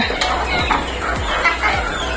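Chickens cluck and squawk in short repeated bursts while being fed grain, fairly close, over a low background hum.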